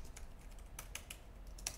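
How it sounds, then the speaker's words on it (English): Light, quick keystrokes on the keyboard of a Clevo N130BU laptop, with soft scattered taps and a few sharper clicks, heard close up and alone. "Here's the keyboard."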